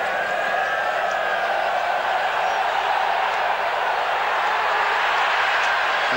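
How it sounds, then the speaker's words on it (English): A packed cricket crowd at a Test match in Auckland, New Zealand, keeps up a constant, dense roar of cheering and noise during Richard Hadlee's over, loud and continuous, with a commentator speaking over it. "Richard Hadlee has got the crowd in an absolute ferment."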